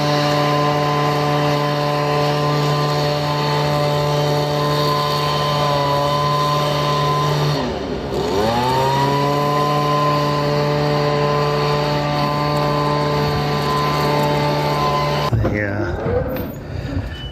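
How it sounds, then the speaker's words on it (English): Leaf blowers run outside a building renovation site, making a loud, continuous droning whine that dips and swoops in pitch twice. "If it's not construction, it's leaf blowers."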